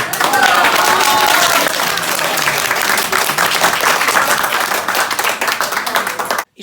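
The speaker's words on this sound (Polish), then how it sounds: "Brawa dla Pani!" An audience applauds loudly and steadily for several seconds at a residents' public meeting in Szczecin, Poland, a dense wash of clapping that cuts off abruptly at the end.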